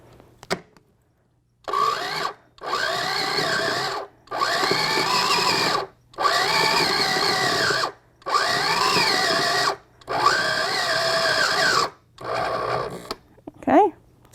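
A blender pulping paper for papermaking whirs in repeated bursts of about two seconds, each separated by short pauses, loud and close, with its pitch rising and falling as it churns.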